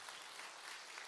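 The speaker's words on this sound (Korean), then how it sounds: "박수 한번 주세요." Applause from a church audience at a family-relationship seminar, a steady dense wash of clapping held evenly throughout the short moment with no voices over it.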